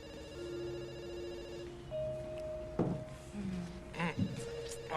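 A telephone ringing indoors, tonal electronic rings repeating in the background while brief knocks and clatter occur nearby.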